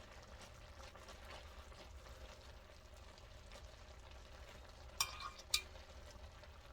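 Fork stirring and loosening stir-fry in a hot pan, with faint scraping and soft sizzling, plus two sharp clinks of metal against the pan near the end.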